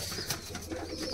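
Pigeons in a high-flying pigeon loft give soft, low cooing over a steady, noisy background hum, with no voices during the brief stretch.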